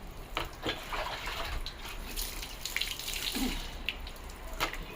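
Water from a tap splashes over a dog's back feet as they are washed, a soft, continuous running and spattering sound with a few brief louder splashes, fairly quiet and without talk.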